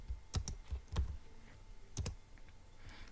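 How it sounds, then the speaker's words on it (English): A computer keyboard typed on in short bursts, a few distinct key clicks in clusters with pauses between, close and fairly quiet in a still room. "You can now type welcome, for instance."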